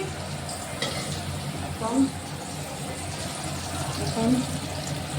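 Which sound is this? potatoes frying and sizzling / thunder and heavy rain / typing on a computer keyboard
potatoes frying and sizzling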